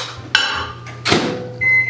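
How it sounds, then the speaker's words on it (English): A microwave oven in a baking competition video game clicks and slams shut, hums with a steady low drone, then a whooshing burst and a sustained high beep close up, with no talking. "I'll put this one in the microwave."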